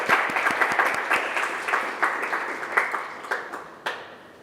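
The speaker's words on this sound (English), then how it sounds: "Big round of applause for Ms. Kema, everyone." Audience applause at a university book club launch event, a small group clapping steadily with distinct individual claps, fading slightly toward the end.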